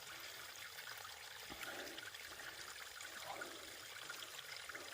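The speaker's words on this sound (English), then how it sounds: "Water coming down from mountain." Mountain water runs downhill in a faint, steady trickling stream with a soft, even wash and no other sounds.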